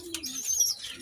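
A domestic pigeon with a cumin-throat pattern gives a brief low coo, close by, mixed with a few higher chirps, lasting only about a second with no talking.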